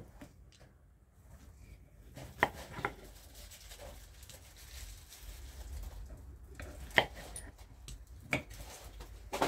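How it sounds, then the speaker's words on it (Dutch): A knife chopping vegetables and button mushrooms on a board, with scattered sharp knocks that come a few seconds apart and rise above a quiet, rustling room background. "Nou, we gaan lekker snijden"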